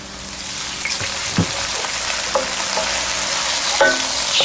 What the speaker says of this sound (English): So now I'm going to go ahead and add ginger and garlic.